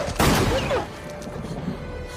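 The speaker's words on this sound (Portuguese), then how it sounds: "atira no lobisomem com a bala de prata" A single gunshot as a silver bullet is fired at a werewolf in a film, one sharp loud crack that quickly fades into a low dark rumble.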